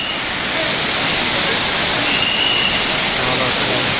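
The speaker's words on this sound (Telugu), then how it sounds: "వాటర్ఫాల్ ఎంత బాగున్నది," Rushing water at Kothapalli waterfall roars as a steady, loud, dense wash of white noise that fills the scene without break.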